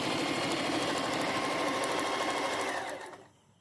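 A sewing machine runs steadily while stitching the cuff design of a salwar, a loud, continuous mechanical whir that stops abruptly near the end.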